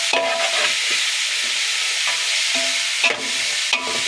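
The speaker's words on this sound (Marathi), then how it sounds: "आपण कांदा तळून घेणार आहे" Steady loud sizzling of onions frying in a hot kadhai, with repeated scraping and clinking as a utensil stirs them.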